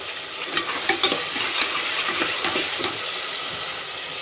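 Chopped tomatoes and green chilies frying in a pan for mushroom biryani, a soft steady sizzle punctuated by sharp spatula scrapes and taps every half second or so, close and without talk.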